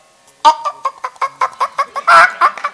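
A voice imitates chickens clucking: a rapid series of about a dozen short, clipped clucks, close and fairly loud, with one louder squawk near the end.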